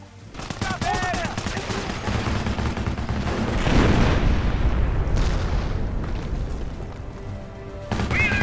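Rattling machine-gun and rifle fire with booming blasts in a Company of Heroes wartime battle, continuous and loud, peaking midway, with brief voices at the start and end.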